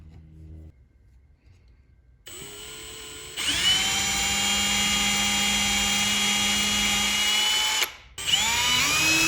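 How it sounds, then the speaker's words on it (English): A power drill bores into a wooden playing card tray while a Lazy Susan is being attached. After a quiet start and a brief lower whir, it settles into a loud, steady high whine for several seconds, stops briefly, then starts again. "now we gotta drill"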